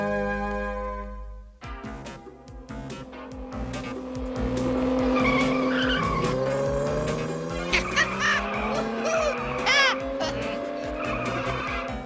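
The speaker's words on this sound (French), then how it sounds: "Tu vas arrêter cette voiture, Charlie?" A cartoon car skids with loud, sustained tire squeals and revving engine, rising sweeping tones over a dense, busy mix of crashing effects and music for about ten seconds.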